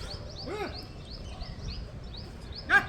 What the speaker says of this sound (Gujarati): પક્ષી કિલોર કરી રહ્યા છે,